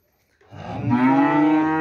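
A young bull from a cattle breeding stock in Indonesia gives a single loud, close, drawn-out moo that swells and holds to the end.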